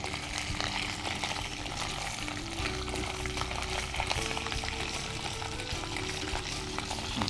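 Spice paste for handi-style dum aloo frying in a pan, a steady, dense sizzle with light stirring scrapes running evenly throughout, close and fairly quiet, no voices.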